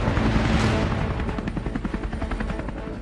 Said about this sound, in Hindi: खुद ABP न्यूज की टीम इस लाइट कॉम्बैट हेलीकॉप्टर यानी LCH में है।